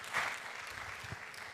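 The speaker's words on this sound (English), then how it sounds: "Let's clap for ourselves." Audience applause at a conference closing ceremony, a brief burst of clapping from a seated crowd that fades quickly to a faint, thin patter, heard from some distance.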